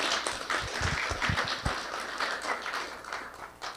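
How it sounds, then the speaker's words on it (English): An audience at a police community meeting gives a round of applause for Commander O'Reilly, a dense wash of clapping that fades out over a few seconds, with a few louder claps near the start. "How about a round of applause for Commander O'Reilly?"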